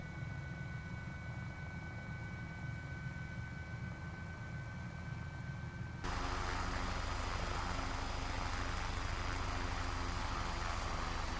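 A helicopter in Microsoft Flight Simulator, the 500E or H125, flies in for a water landing, its rotor and engine droning steadily and close, then swelling abruptly louder and rougher halfway through.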